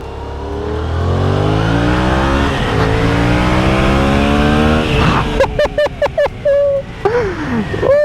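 A Yamaha MT-07 motorcycle engine pulls hard, its revs climbing steadily and loudly up close, then shifting into choppy bursts and sharp changes in pitch near the end.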